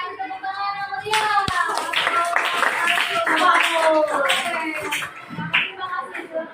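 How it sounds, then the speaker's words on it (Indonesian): Audience clapping after a group song at a school mentoring session, brief scattered claps mixed in with voices talking close by. "kasih tepuk tangan yang meriah"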